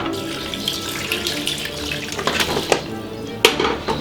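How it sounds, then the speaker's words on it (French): Beef broth for a braised beef cheek with mustard poured through a kitchen strainer, a steady close splashing stream with a few sharper splashes near the end, heard alone. "Le bouillon, le voilà, la passoire comme ça."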